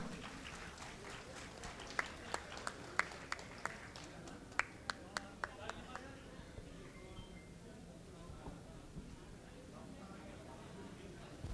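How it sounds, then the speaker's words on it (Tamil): At a friends' reunion gathering, scattered handclaps ring out sharply and fairly close for a few seconds, then thin out and fade beneath quiet room murmur. "அவர்களுக்கு நம்முடைய நன்றி கரகோஷம் எழுப்பி நன்றியை தெரிவித்துக் கொள்கின்றோம்"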